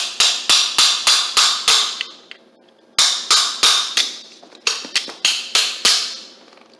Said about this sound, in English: And now I got to use channel locks for this because I don't have my hammer. But we'll just knock that on.